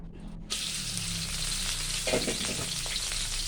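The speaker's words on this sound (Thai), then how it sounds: "ก็เอาขิงลงไปเจียวก่อนนะ เจียวให้ขิงหอมเลย" Ginger frying in hot oil in a pan for a pork belly stir-fry sizzles loudly and steadily after a short quiet start, with a few stirring scrapes partway through and no talking.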